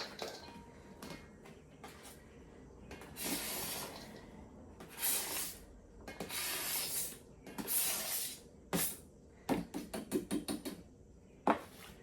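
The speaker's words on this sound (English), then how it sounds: "I'm going to go ahead and dump all of my onions in here" Chopped onions tumble into a pot for mirepoix in a home kitchen, giving several separate rustling, scraping bursts of varying loudness, with a quick clattering run of taps near the end.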